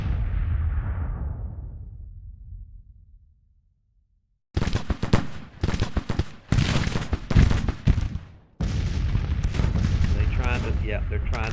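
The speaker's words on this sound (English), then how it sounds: "We've got them in a serious crossfire with our cannons here." Cannon blasts and rifle volleys crackle in Grand Tactician, a Civil War strategy game set in 1863: a booming shot fades out into silence, then dense bursts of gunfire and artillery stutter back in, loud and close.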